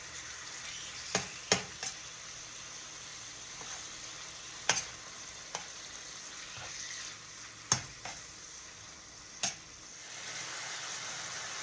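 Beef and broccoli stir-frying in a pan: a quiet, continuous sizzle carries sharp, irregular clicks and scrapes of stirring throughout.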